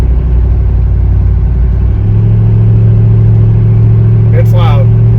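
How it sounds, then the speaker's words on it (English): A Jeep Wrangler 392 fitted with an AFE exhaust accelerates on the road, its deep, loud engine rumble holding steady and rising slightly in pitch partway through, with a brief higher chirp near the end. "I'll give it a little bit of gas, let you guys hear it."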